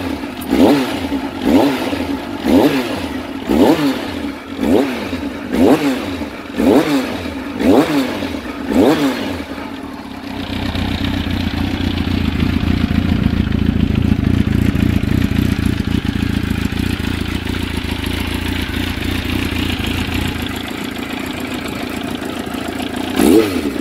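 A carbureted Kawasaki ZX9R motorcycle engine cranks with a rhythmic starter churn for about ten seconds, then catches and runs with a loud, steady rumble, close by.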